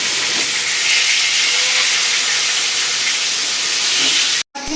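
Pieces of pointed gourd coated in turmeric hit hot oil in a kadai, giving a loud, steady hiss of frying that runs unbroken and stops abruptly near the end.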